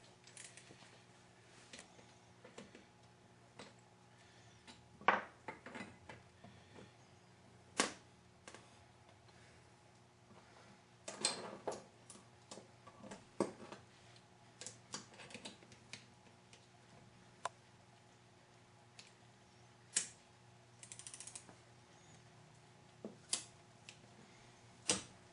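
Strut bolts on a 2000 Mitsubishi Mirage being torqued, a series of sharp, scattered ratchet clicks and metallic ticks at close range, spaced irregularly over a quiet background.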